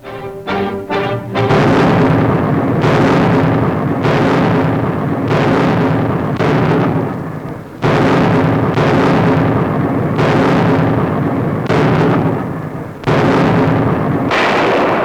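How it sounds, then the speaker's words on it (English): British artillery fire from a wartime newsreel: a steady series of loud, booming gun blasts roughly every second or two, each one heavy and close, one after another across the whole stretch with no talking. "British artillery gives the Nazis no rest"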